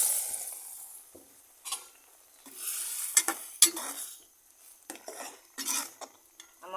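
Intermittent scraping and clinking of a utensil stirring boiled bean seeds into taro flower curry in a pan, with quiet gaps between bursts, close and fairly soft.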